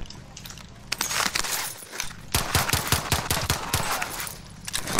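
Rapid bursts of video game gunfire fill a prison stairwell firefight, sharp repeated shots crackling close and loud, with a denser volley of cracks in the second half.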